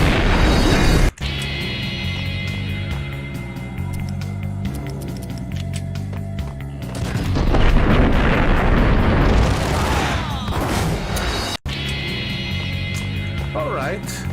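Grenade launcher fire in the Max Payne video game: heavy, rumbling blasts and sustained loud booming with game noise, close and dense, one swelling blast mid-way, a brief cut-out near the start and end.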